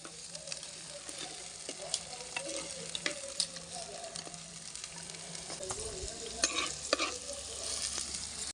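Onions and green chillies fry in a pan over a wood fire with a continuous soft sizzle. Intermittent stirring scrapes and taps sound close but fairly quiet, and no one speaks.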